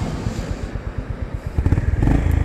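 A 2025 Honda GB350S single-cylinder motorcycle idles with a steady low thumping pulse, then the engine is blipped louder toward the end, close by with no talk.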